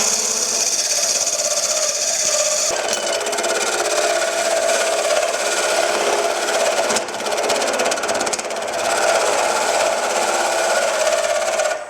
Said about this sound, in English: now we'll use our square insert tool and a 5/8 wrench to bring it down to our 5/8 inch tenon right here